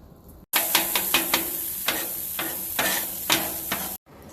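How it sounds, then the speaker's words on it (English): Butter and onions simmering in a pot, a loud close continuous sizzle with rhythmic stirring scrapes and clacks through it, starting and stopping abruptly. "Now we're going to bring it up to a simmer. Let the onions cook down a little bit."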